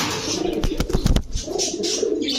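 Pigeons at a market stall coo in soft, throaty bursts, with a quick cluster of louder flutters or coos midway, heard close and without speech.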